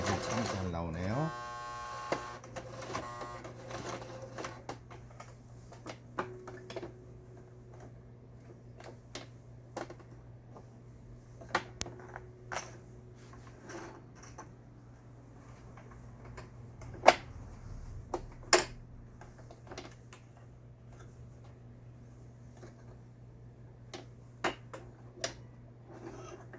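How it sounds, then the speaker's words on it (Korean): A Toyota JB04 domestic sewing machine stitches with a steady, low mechanical hum, its needle ticking throughout, and short clicks and taps from handling the machine stand out now and then. "큰 소음 없이 박음질 잘 돼."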